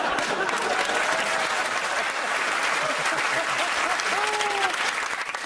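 Studio audience at a comedy quiz taping of 8 Out of 10 Cats Does Countdown breaks into sustained, full applause that fills the room evenly, with faint voices and a few whoops beneath it.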